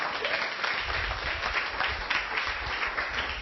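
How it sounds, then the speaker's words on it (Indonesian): A church congregation during an Indonesian sermon applauds in praise, a dense, continuous roar of clapping that stays loud and even from start to finish, with no voices rising above it. "Beri tepuk tangan bagi Tuhan."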